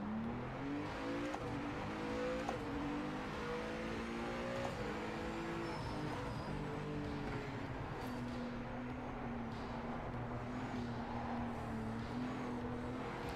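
Race car engine in Project Motor Racing, a steady loud droning whine climbing and dropping through gear changes and throttle lifts, continuous and close as from the cockpit, with faint tire noise beneath.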